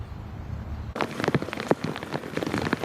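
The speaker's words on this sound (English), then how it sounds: "Deshaun Chapman walking slowly in the rain toward the shallow grave where he says his daughter was buried" Steady rain falling outdoors near a shallow grave site, a dense close patter with scattered heavier drops that begins abruptly and continues throughout.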